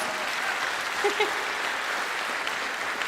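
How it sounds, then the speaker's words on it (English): An audience applauds a choir singer at a concert, steady mid-level clapping that runs throughout with a few faint voices mixed in. "let's give her a round of applause"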